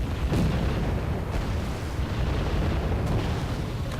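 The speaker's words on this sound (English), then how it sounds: "Mortars coming in." Mortar shells land in Wargame: AirLand Battle, a dense rumbling barrage with a few sharper impact bursts standing out over continuous low battle noise, no talk.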